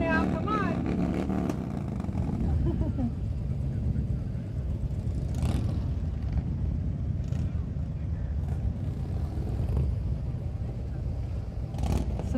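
A pack of motorcycles at a Veterans Day parade rumble and rev together in a continuous, loud engine roar outdoors, with someone talking over a loudspeaker at times.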